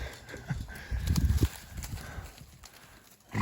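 Hooves of miniature donkeys on leads walk in uneven clip-clop steps, a soft cluster of footfalls building then thinning out, close by with faint background noise and no talk.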